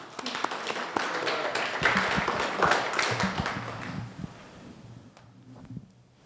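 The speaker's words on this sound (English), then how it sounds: "Let's give her a nice round of applause." A lecture audience at a peace education talk breaks into a burst of clapping that stays dense for about four seconds, then thins out and fades to a few scattered claps.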